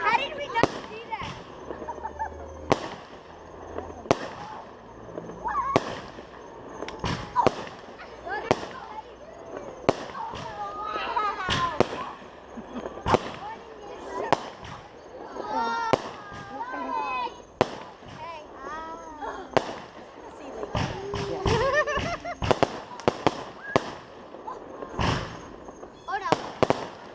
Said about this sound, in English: Joey, are you still scared of fireworks